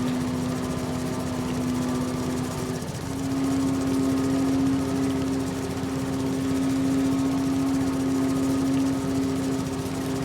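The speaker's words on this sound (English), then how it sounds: "somebody else starting up their mower, it sounds like" In the video game Farming Simulator 22, a lawn mower engine drones steadily and close, with a constant low hum and buzzing overtones and a brief dip around the third second, with no talk.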